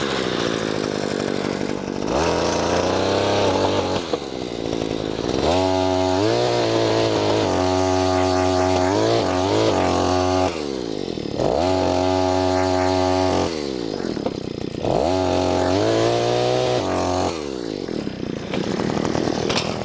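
A cheap Chinese gas-powered earth auger runs loud and close, its small two-stroke engine revving up and down in repeated surges and drops as it drills into the ground.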